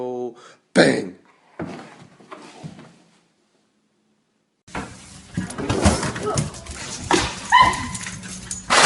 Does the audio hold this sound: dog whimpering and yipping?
yes